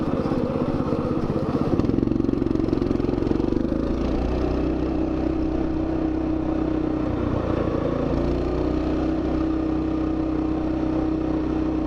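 A Coleman mini bike with a 212cc engine runs steadily close by, its loud, even engine drone holding throughout with a slight shift in pitch partway through and no talking.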